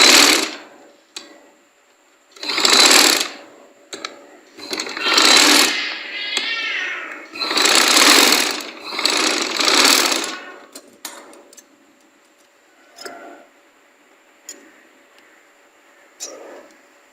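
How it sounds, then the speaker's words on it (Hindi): Bursts of a sewing machine running while stitching a pintuck trouser design, loud and close, several runs of a few seconds each separated by pauses and small clicks. "तो इस तरीके से सिलाई को वाइंड अप कर लेना है यहाँ तक।"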